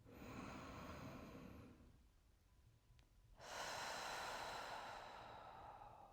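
Slow, steady breaths during a hip-focused yoga stretch: a long airy inhale, a quiet pause, then a fuller, louder exhale, faint and close, with no talking.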